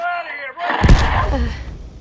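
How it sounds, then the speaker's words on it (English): An explosion goes off outside in The Last of Us, a loud sudden boom with a rumbling decay, preceded by a brief voice. "it triggers an event outside where you can see the explosion going off"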